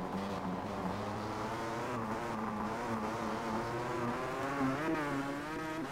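A 500cc two-stroke racing motorcycle engine in Valentino Rossi The Game revs loud and steady, its pitch climbing and dipping through quick gear changes without a break.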